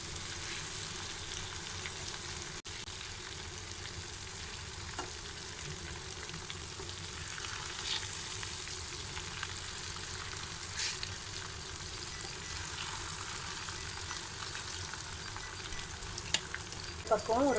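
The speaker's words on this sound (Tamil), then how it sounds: "இதை அப்படியே லோ ஃப்ளேம்லேயே வச்சு ஃப்ரை பண்ணி எடுக்கணும்." King fish frying in a pan over a low flame, giving off a steady, soft, continuous sizzle and hiss with a few faint crackles, heard alone without talk.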